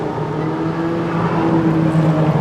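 A loud, deep Corvette Z06 flat-plane V8 drones steadily nearby, holding a sustained low tone as the car goes by.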